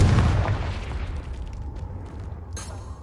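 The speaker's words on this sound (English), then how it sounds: "Confringo!" A Confringo fire spell in Hogwarts Legacy lands with a loud, deep explosive boom that decays into a rumbling tail, followed by a faint crackle near the end.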